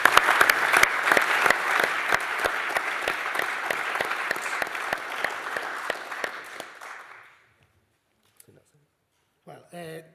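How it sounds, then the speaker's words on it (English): An audience at an innovation showcase event for small flying objects applauds, a full burst of clapping with sharp pops that fades out after about seven seconds, followed by near silence and a brief voice. "So I think everyone deserves a massive round of applause."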